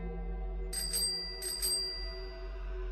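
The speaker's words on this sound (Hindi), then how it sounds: "यह आवाज, ये तो उसकी एटलस साइकिल की घंटी की आवाज थी" An Atlas bicycle bell rings twice in quick pairs of bright metallic dings, clear against a steady low hum in a quiet night setting.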